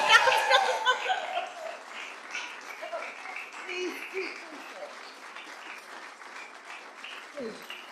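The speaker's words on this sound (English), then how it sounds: "My wife knows how to milk the applause" Audience applause at a Palo Alto celebration event, a loud burst of clapping at first that quickly thins out, followed by scattered laughter and murmuring voices.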